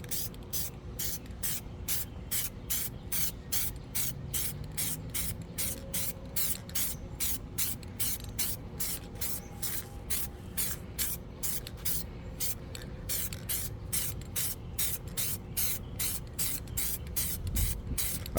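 Short repeated bursts of spray paint hiss in a steady rhythm as dash pieces are coated satin black outdoors near a truck, each burst a sharp airy spurt with no talking.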